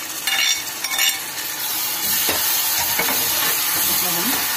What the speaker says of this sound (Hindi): अब इसमें हम ऑनियन डालेंगे, ऑनियन को अच्छे से गोल्डन ब्राउन करेंगे